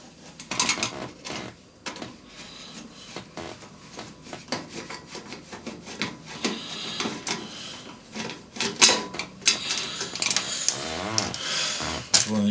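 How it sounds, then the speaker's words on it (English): Screws are worked out of the underside of a paraffin inverter heater with an E4 fault, giving a busy run of close, ratcheting mechanical clicks and scrapes that continues unevenly throughout. "I'll take two screws out the bottom here"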